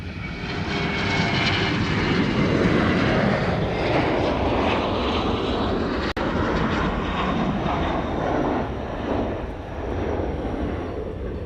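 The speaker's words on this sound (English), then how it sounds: "That Hawaiian there we just saw depart is heading off to Maui." Hawaiian Airlines plane departing Honolulu airport, a loud, sustained engine roar with a sweeping pitch shift as it passes and fades slightly, with no talk over it.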